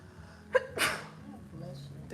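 One sharp sneeze close by, preceded by a quick intake of breath, with people chatting quietly around it.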